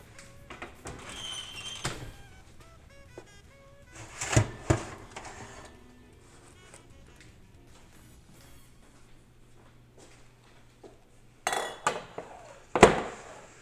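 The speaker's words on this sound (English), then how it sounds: "So I'm ready to take it out of the oven." A pan of smoked Boston butt pork is lifted out of a 200-degree oven, with metallic clinks and scrapes, a door-like thump and rattles of pan and rack, loud at the start and again near the end, without speech.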